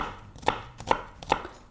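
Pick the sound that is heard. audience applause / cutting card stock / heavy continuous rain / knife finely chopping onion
knife finely chopping onion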